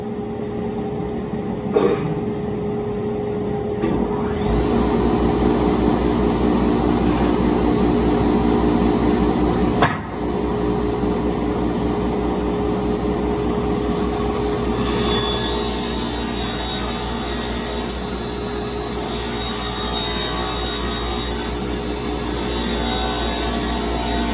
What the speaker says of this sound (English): Then we'll take those over to the radial arm saw and cut them to length.